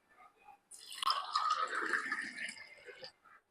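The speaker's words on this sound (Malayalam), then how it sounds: "ബീട്രൂട്ട് ലൈമ റെഡി ആയിട്ടുണ്ട് നമുക്കിത് ഗ്ലാസ്സിലേക്ക് ഒഴിക്കാം" Beetroot lime juice is poured into a glass in one continuous splashing stream lasting about two seconds, close and fairly quiet, with a few faint drips before and after.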